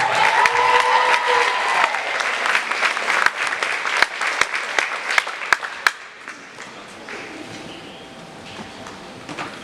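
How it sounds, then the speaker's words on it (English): At a high school award ceremony, an audience applauds athletes with steady clapping that carries a few sharp claps and then thins out and fades to a quieter room. "please give these athletes a big round of applause"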